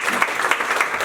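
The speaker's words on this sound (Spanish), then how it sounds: "un fuerte aplauso para Álvaro." Audience applause at a fireside chat on venture capital and M&A, dense even clapping from a seated crowd, fairly close and sustained throughout the brief moment.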